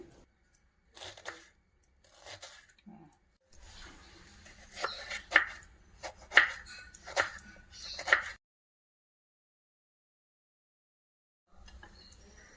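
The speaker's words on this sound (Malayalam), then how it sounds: "മസാലയ്ക്ക് ആവശ്യമായ തക്കാളിയും സവാളയും ഇതുപോലെ ചെറിയ കഷ്ണങ്ങളായി അരിഞ്ഞ് മാറ്റി വയ്ക്കുക" A knife cuts tomato and onion into small pieces on a board, sharp irregular chops bunching into quick runs, then a long pause before the chopping starts again.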